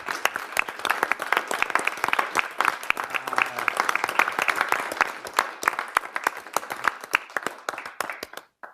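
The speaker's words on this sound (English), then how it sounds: "I don't want to let him leave without a round of applause." A round of applause at a city council meeting, steady clapping from a room of people lasting several seconds before thinning out and stopping near the end.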